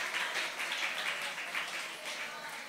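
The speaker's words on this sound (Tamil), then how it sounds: "ஒரு பெரிய கைத்தட்டி ஏசப்பாவுக்கு கொடுத்துருங்க." Sustained applause from a church congregation during a Tamil worship service, a steady wash of many hands clapping at moderate loudness that fills the room without pause.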